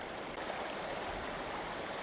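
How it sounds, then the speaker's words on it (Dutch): A flooded river, normally narrow, now swollen into a broad fast-flowing mass of water, gives a continuous dense roar of rushing water, steady and loud with no voices. "Normaal is dit een smalle rivier, nu een grote watermassa met een sterke stroming."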